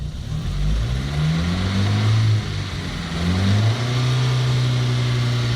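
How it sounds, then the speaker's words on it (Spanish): Car engine revved repeatedly during a fuel injector pulse test, climbing in pitch, briefly dropping back, then rising again and holding a steady high rev, close and loud with no talking. "Como vamos a hacer una prueba acá acelerando el vehículo,"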